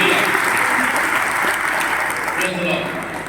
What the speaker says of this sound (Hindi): इसलिए आप यीशु के लिए जोरदार ताली बजा सकते हैं